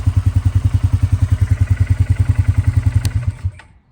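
Close, loud engine of a 2023 Polaris Sportsman 570 Premium ATV idling with a steady throbbing chug, then cutting out and sputtering to silence near the end.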